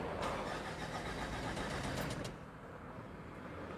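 A Ford Everest with a jerky-acceleration fault cranks hard with a loud, churning starter-and-engine roar for about two seconds, then drops to a lower, steadier rumble; no one talks.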